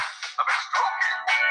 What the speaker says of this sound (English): that's my phone going off in the background